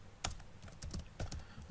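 Soft keystrokes on a computer keyboard while entering text into a Lotus Improv spreadsheet, several quick uneven taps in small bursts, quiet and close-miked with nothing else over them.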